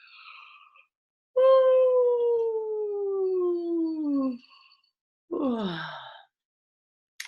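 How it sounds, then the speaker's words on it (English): A person gives a long voiced yawn as a singing-anatomy demonstration, a drawn-out tone sliding slowly downward in pitch, then a shorter second yawning sigh, close and alone in a quiet room. "I'm gonna go ahead and make a yawn so you can."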